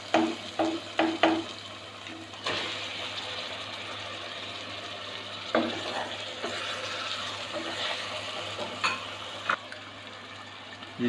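Tomatoes added to onion, ginger and garlic paste frying in oil for a dhaba-style white chana masala give a steady sizzle, with a few sharp knocks of a spoon against the pan near the start and later.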